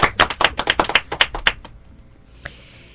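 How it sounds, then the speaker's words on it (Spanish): A small studio audience on a Dominican TV talk show bursts into a brief round of sharp, rhythmic claps that fade out quickly, with one last isolated clap after a short pause. "¡Aplauso!"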